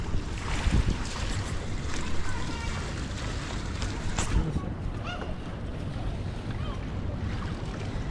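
A river cruise boat ride in Penang, Malaysia, with steady engine and water rumble and strong wind buffeting the microphone throughout, while voices are heard faintly in the background.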